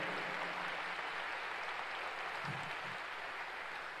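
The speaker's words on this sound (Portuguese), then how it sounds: "Forte aplauso ao Senhor." Members of a church congregation clap loudly and continuously in praise to the Lord, a thick unbroken roar of hands with a brief low thump partway through.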